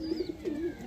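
An Andhra pigeon gives a soft, close coo, a short throaty warble repeated twice in quick succession, faint but clear against quiet background.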